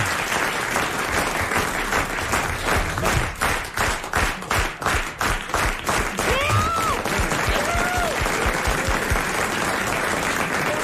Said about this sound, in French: Alors on applaudit Léon Zitrone.